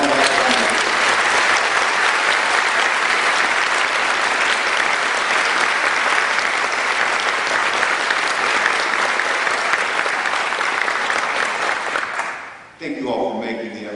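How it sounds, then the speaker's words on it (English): Sustained applause from a large audience at a high school academy commencement ceremony, loud dense clapping that holds steady before fading abruptly near the end. "let's give them a round of applause as they move on back."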